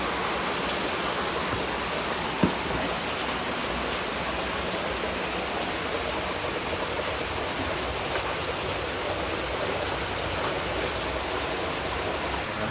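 Heavy rain pours down in a dense, unbroken hiss at home during a downpour, steady and loud throughout with one faint knock early on.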